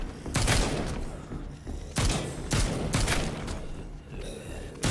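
Gunshots in The Walking Dead Onslaught video game, several sharp loud blasts spaced about a second apart with short reverberant tails over a noisy background.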